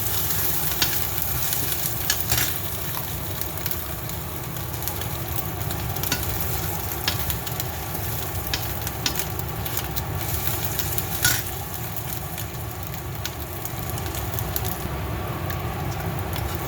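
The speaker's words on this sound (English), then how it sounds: "If the ginger and garlic is not fried properly, it won't taste nice." Ginger garlic paste frying in a hot pan for pepper chicken, a continuous close sizzle broken by repeated scraping stirs of a spoon.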